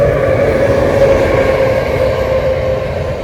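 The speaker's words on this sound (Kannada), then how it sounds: "ಟ್ರೈನ್ ಕೂಡ ಬಂತು ಇಲ್ಲಿ ನೋಡಿ" A train rumbles past nearby on a railway track near Ankola, Karnataka, with a steady, loud, low roar and a faint tonal hum, continuous with no talking.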